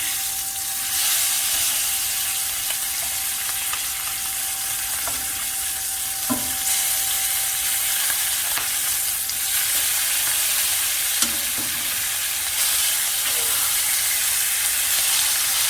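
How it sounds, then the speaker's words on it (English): Tomahawk pork chops searing in a pan, a steady strong sizzle and hiss held throughout with occasional faint clinks, no one speaking. "we're getting a nice sear on there"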